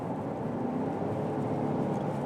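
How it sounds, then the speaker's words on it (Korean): Chevrolet Traverse with a naturally aspirated large-displacement engine producing 314 horsepower, its exhaust a steady low drone and rumble heard from inside the cabin, continuous and moderately loud with no talking. "배기음이 상당히 좀 들려옵니다."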